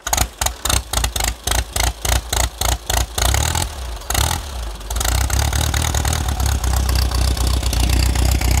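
A 1920 Henderson 1300cc four-cylinder motorcycle engine being started: a rhythmic series of cranking bursts, then the engine catches and settles into a loud, steady, clattering idle, close by with no talk.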